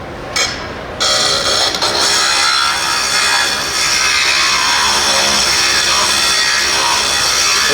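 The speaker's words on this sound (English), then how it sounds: "So now I've got it drilled all the way through." A grinder bit drilling a hole through glass at a glass craft expo, a loud, steady high-pitched whine and grinding buzz that starts abruptly and runs on continuously.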